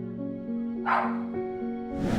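A dog, one of two American Staffordshire Terriers, lets out a couple of short, close barks mixed with whining yips, its tonal voice clear and fairly loud over faint background.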